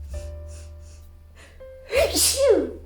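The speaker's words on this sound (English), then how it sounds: "I'm gonna sneeze" A single loud sneeze bursts out after a quick sharp inhale, close to the microphone, with a faint background hum.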